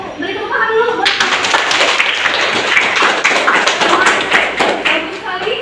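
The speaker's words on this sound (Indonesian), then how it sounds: "Beri tepuk tangan dulu buat" A classroom group applauds a student group after their presentation, brisk close clapping that swells after a second and continues loudly, with a voice talking over it.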